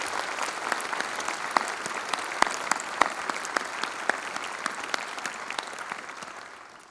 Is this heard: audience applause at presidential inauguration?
yes